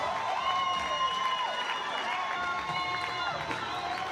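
Crowd at an NCAA regional college softball game between Omaha and Washington cheering and shouting steadily in a stadium, a continuous wash of voices with some whistles, heard from a distance beneath play-by-play commentary.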